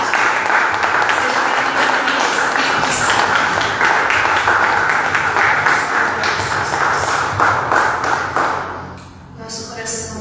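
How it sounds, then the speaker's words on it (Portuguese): A church congregation applauds in steady, dense clapping that carries on under a voice for most of the clip, then thins out near the end. "Você pode aplaudir ao Senhor mais forte?"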